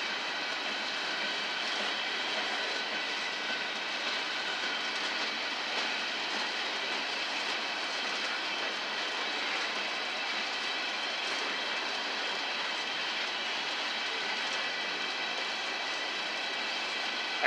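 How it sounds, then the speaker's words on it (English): An empty fertilizer gondola freight train rolls past at a rail yard in Roseville, California, producing a steady, continuous rumble and rattle of wheels and cars that stays even and moderately distant throughout, with no talk. "gondola train"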